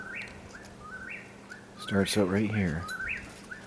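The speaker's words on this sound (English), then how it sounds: "It's a night bird. It only comes out at night." An insect-eating night bird calls at dusk on a homestead, repeating short rising whistles close by, with a burst of louder warbling trills in the middle; someone speaks briefly at the start.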